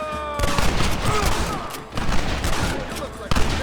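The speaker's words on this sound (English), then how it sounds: "Get ready to hold off their fire, Marston. Up top! Cover them" Rapid gunfire in a Red Dead Redemption shootout, dense bursts of loud shots crackling continuously with sharper cracks near the end, under shouted voices.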